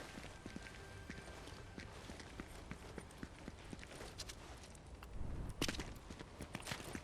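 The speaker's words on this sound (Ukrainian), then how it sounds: "піді мною хтось бігає, так?" Running footsteps from a nearby player in a Fortnite Zero Build solo match. The steps form a quick, rhythmic patter of soft, fairly faint thuds over game ambience, a little louder toward the end, with no talking.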